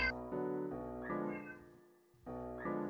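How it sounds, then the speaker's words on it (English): A caravan cat cries out in a string of long, drawn-out meows, loud and close, with short pauses between them and no voices over the sound. "And the caravan kitty is crying."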